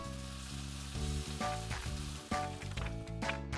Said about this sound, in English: Now Mummy teaches Ollie how to use the frying pan safely.